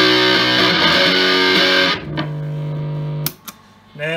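Electric guitar bar chords through an Electro-Harmonix Big Muff Pi V4 op amp distortion pedal ring out thick and fuzzy with long sustain, then cut off, followed by a couple of brief muted picks and a lower held note.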